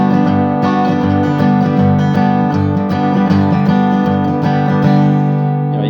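A bluegrass guitar chord strummed across all strings at once, steady full strokes ringing close and loud before fading at the end, with no talking.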